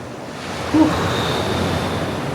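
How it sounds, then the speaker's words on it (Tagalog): Steady wash of ocean waves lapping on a beach in La Union, Philippines, a soft continuous rush of surf with a faint breeze and no voices. "Sarap lang pakinggan ng lagaslas ng alon."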